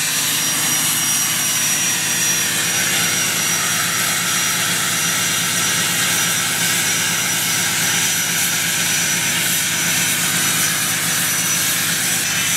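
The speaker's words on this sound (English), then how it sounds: "That exhaust whistle though sounds amazing." Cummins diesel pickup truck idling while warming up, its exhaust giving a loud, steady high-pitched whistle over a constant broadband roar that holds unchanged throughout.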